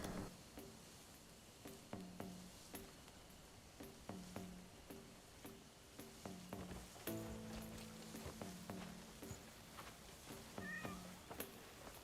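A cat in a video game meows repeatedly in short, evenly spaced calls over a quiet game soundscape, with faint soft steps and no talking.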